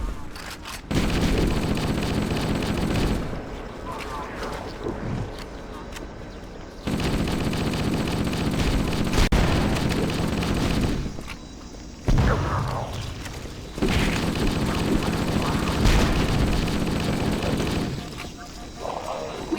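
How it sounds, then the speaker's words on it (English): Bursts of rapid weapon fire in the Halo video game, loud and dense, come in stretches broken by short lulls, with explosions and in-game voices mixed in. "Please stop firing your weapon."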